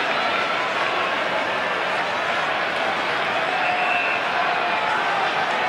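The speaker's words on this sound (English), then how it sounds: "Crowd giving him some more jeers." Spectators at the Sydney Cricket Ground jeer during a 2007 AFL Swans versus Richmond match, a dense continuous roar of crowd noise that holds steady throughout, with a commentator's voice mixed in.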